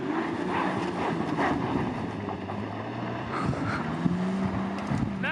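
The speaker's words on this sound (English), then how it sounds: "And now here's a max speed takeoff in off-road mode." A Mercedes-Benz GLE 450 Coupe makes a full-speed takeoff in off-road mode: a steady engine drone under heavy wind noise, with a brief rising tone near the end, heard from inside.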